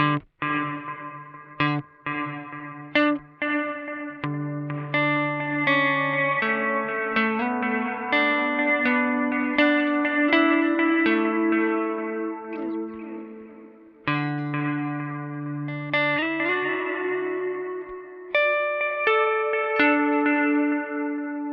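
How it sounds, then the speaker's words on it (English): Guitar notes run through a diffused analog delay pedal, a dry first note followed by repeats washed in heavy reverb, ringing in layered, sustained tones for a long stretch with no talking. "It's the diffused analog delay"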